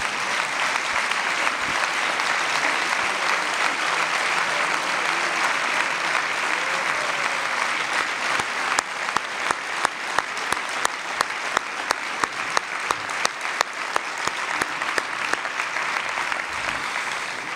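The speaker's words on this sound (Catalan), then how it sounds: "Demanaria un fort aplaudiment, sisplau." An audience at a Catalan political gathering in Baix Llobregat applauds at length, a dense, steady wash of clapping from many people, with individual sharp claps becoming more distinct in the latter half.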